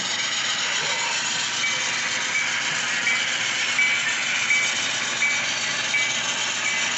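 A scale model SDL39 diesel train engine running along a layout, giving a steady whirring motor hum with faint periodic ticking from wheels or gears, constant and close throughout.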